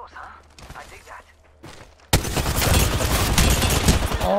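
Gunfire erupts in an Apex Legends season 6 match: after quiet moments with soft game sounds, a loud, sustained burst of rapid automatic shots and impacts suddenly takes over and continues steadily to the end.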